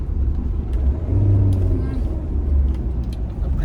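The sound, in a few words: Mahindra Thar RWD diesel engine revving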